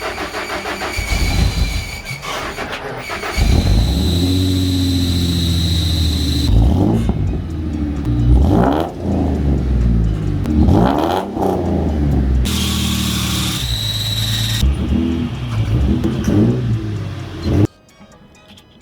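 A cheap, long-neglected Mustang, freshly fitted with new batteries, runs loudly up close while being driven off a trailer, its engine revving repeatedly with rising and falling sweeps before cutting off abruptly near the end.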